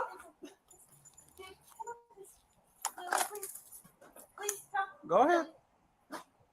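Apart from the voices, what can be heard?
dog whimpering and barking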